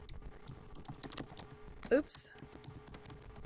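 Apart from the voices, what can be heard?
typing on a computer keyboard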